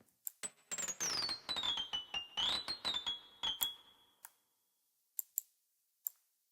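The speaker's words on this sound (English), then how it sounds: "Now every time I click a note in, I should be able to hear it." Synth notes from MIDI entries placed in Logic Pro for iPad sound as a quick run of pitched tones, a gliding melodic line over soft taps, then a few isolated clicks trailing off into quiet.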